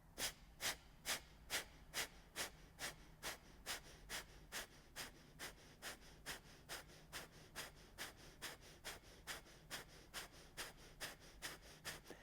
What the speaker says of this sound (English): Take an in-breath for Kapalabhati. And start pumping, snapping your abdomen back.